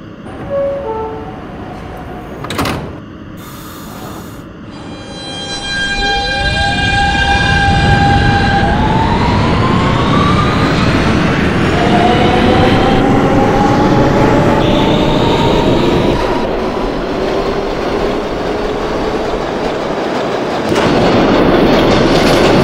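An R160 Siemens subway train on the M line in the OpenBVE simulator pulls away with rising motor whine and electric tones, then runs with a loud steady rail roar and wheel clatter, no talking.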